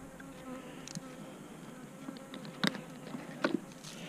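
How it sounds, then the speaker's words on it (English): Bees buzz steadily around hives in a springtime bee yard, a close, continuous drone with a few sharp clicks and knocks over it. "Here's a little drunken bee on the front end here."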